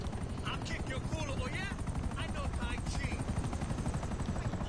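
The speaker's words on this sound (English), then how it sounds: "Can you land that helicopter?" A helicopter in a GTA video game whirs with a steady, close rotor thump throughout, while a voice talks over it.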